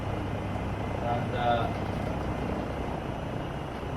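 A Eurocopter helicopter in Microsoft Flight Simulator 2024 makes a steady rotor and turbine drone with a faint whine, continuous at moderate volume, while a voice says a word.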